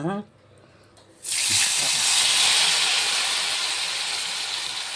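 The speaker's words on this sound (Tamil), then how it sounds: "வெங்காய பஜ்ஜி மாதிரியே ஃப்ரை ஆகட்டும்" Gili fish coated in green masala drops into hot oil, and after a brief voice and a moment of quiet a loud, steady sizzle and hiss of frying bursts up close and continues without a break.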